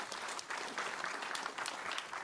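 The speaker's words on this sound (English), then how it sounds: "All right, applause." Audience applause at a computer vision summit's entrepreneurial challenge, a steady wash of clapping at moderate, slightly distant level, no speech over it.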